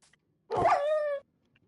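A single short dog bark, like a whining yip, from a dog mob on a Minecraft-style video game server, clear and close against near silence.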